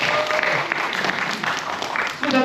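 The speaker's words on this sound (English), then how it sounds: "Hey, a round of applause for Ernest." Warm round of applause from a workshop audience for an author, with dense, close clapping throughout and a little voice mixed in near the end.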